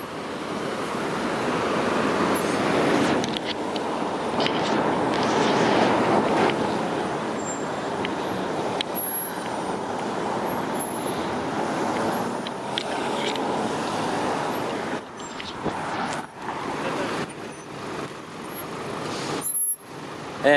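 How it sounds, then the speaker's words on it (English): Rush hour traffic rolls along University Avenue in downtown Toronto on a summer morning, a continuous broad roar of cars and trucks passing close with occasional louder swells. "there's the gridlock of traffic up University Avenue"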